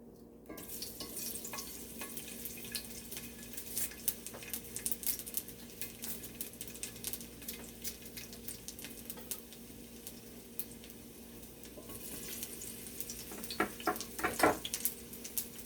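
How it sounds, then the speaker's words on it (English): Steady crackling sizzle of garlic frying in hot oil, with scattered pops and a few louder bursts near the end, no voices. "I'm gonna put a little bit of garlic as usual in my oil to flavor the oil"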